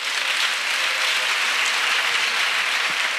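Steady, dense applause from a church congregation at a singles' retreat, acclaiming Jesus Christ, a continuous bright wash of clapping with no speech over it.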